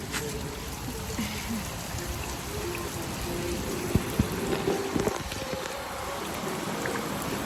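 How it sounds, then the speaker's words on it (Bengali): Steady heavy rain pours down on a rooftop in a continuous hiss, with scattered drips and patters standing out against the wash of falling water. "কি দারুণ বৃষ্টি হচ্ছে"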